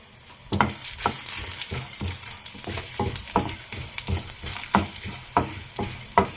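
Chana dal, coriander seeds and dried red chillies being dry-roasted in a pan, rhythmic scraping stirs repeating about every half second over a light sizzle, close and alone.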